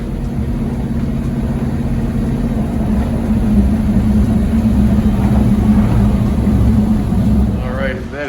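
A Coyote V8-swapped Ford Fusion with 4.09 gears runs loud and close from inside the cabin, its engine droning steadily with a low rumble that builds slightly before easing off.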